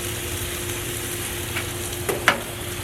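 Chicken pieces on skewers sizzle steadily on a grill for pineapple and chicken, a close, even hiss with a couple of brief sharp pops near the end.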